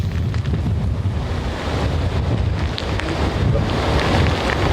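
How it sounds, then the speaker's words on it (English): Strong, steady wind gusts of Hurricane Irma in southwest Cape Coral roar loudly and continuously across the microphone, a dense buffeting rush with no voices. "Jim has been talking about these wind gusts that feel like they're just pushing you over."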